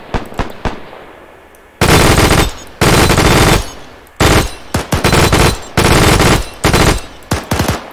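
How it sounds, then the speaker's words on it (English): Loud machine gun fire in a video game, a war battle, comes in long sustained bursts with short pauses between them. Scattered single shots fill the opening seconds before the heavy firing starts. "Just lay into it with a machine gun."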